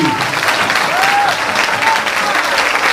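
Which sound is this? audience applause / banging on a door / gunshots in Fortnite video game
audience applause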